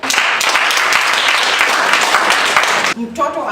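A roomful of women at a dialogue forum gives dense, steady applause for about three seconds, then it cuts off abruptly as talking resumes.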